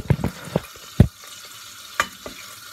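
Butter melting in a hot pan for a pasta, corn, mayonnaise and tuna dish, with a soft steady sizzle under several distinct spoon knocks and scrapes against the pan, close and fairly loud.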